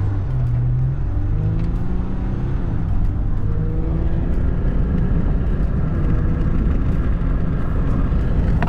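A 2020 Dodge Ram 1500 EcoDiesel pickup accelerating, its diesel engine giving a steady, loud, low rumble from inside the cab for the whole stretch, with no talk.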